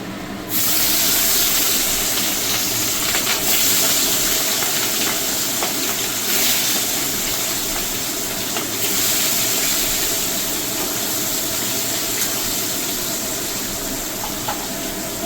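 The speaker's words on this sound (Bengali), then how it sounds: "মাছটাকে একটু হালকা করে আমি ভেজে নেব।" Salted, turmeric-rubbed hilsa fish frying in hot oil, a loud, continuous close sizzle and hiss that runs the whole time.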